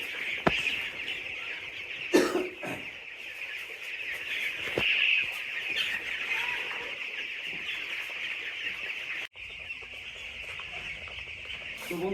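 Twelve-day-old broiler chicks in a poultry shed, given vaccine water in their drinkers, cluck and peep steadily as a dense chorus, with a few sharper bursts along the way.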